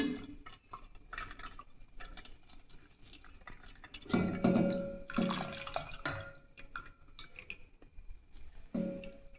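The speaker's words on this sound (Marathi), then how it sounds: "पनीरमधलं पाणी निथळून जाण्यासाठी" Water drips and trickles irregularly from a cloth draining paneer, with a cluster of heavier splashes in the middle and softer drops before and after.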